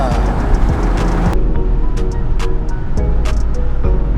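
A 2021 Lamborghini Urus SUV on the move, its engine and road noise a loud, steady roar with a few brief knocks and clicks over the top, heard from close by.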